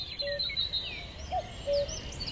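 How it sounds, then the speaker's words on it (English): Bird singing in a sunny field of wild flowers, a series of clear thin chirps and whistled notes, fairly close, over soft background ambience. "Tom and Emily listen to the bird"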